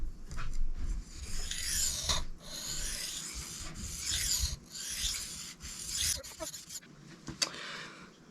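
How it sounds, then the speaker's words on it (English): Cold Steel Mayhem knife blade rubbed on a brand-new whetstone, giving steady rasping strokes in repeated bursts, close and fairly quiet, with brief pauses between passes. "This is a brand new stone, so it's cutting really fast."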